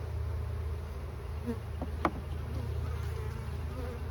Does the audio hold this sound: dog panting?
no